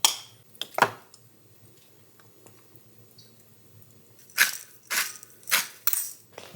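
Avocado mashed with a spoon in a bowl, heard as a few soft clinks early on, then a run of four or five louder, wet scraping and squishing strokes close by, with no talking.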